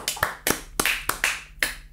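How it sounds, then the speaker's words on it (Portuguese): On a podcast, one person close to the microphone claps about seven times. The claps are sharp and slightly irregular, with no talking between them. "uma salva de palmas"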